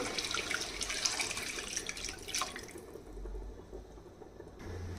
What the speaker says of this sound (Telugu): అలాగే పులుసు కూడా వేసేస్తున్నాను.